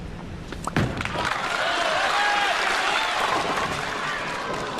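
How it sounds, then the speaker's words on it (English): A crowd at a 1996 PBA National Championship bowling final applauds. A dull thump comes first, then clapping and cheering swell and hold as a dense, steady wash. "Mark now getting some support from the crowd."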